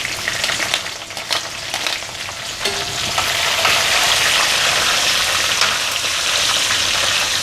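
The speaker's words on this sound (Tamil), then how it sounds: "ஆனியன்ஸ் கொஞ்சம் டிரான்ஸ்லூசன்ட் ஆகிற வரைக்கும் நம்ம நல்லா வதக்கிக்கலாம்" Chopped onions sautéing with cashews and spices in hot oil in a pan for rava kichadi, a steady close sizzle and crackle with occasional stirring scrapes, growing slightly louder and denser after the first few seconds.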